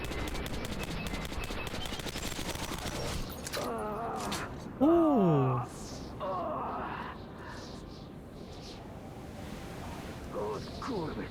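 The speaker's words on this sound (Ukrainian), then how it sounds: "Стріляй, Артем!" Rapid automatic gunfire from the video game Metro 2033 Redux rattles continuously, with shouted Ukrainian voices and a strained vocal cry mixed in over the shooting.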